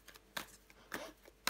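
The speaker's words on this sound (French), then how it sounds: "Je vais recouvrir des cartes. Je vais recouvrir l'as d'épée." Playing cards are laid down on a table during a card game, making three soft, brief slaps and flicks, faint and close, with quiet pauses between them.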